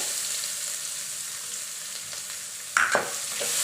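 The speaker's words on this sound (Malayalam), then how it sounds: "അതിനുശേഷം അത് ഒന്ന് ചുവന്ന കളറാവുന്ന വരെ വറക്കണം" Chopped onion fries in a pan with a steady soft sizzle, then a sharper burst of crackling near the end as it is stirred.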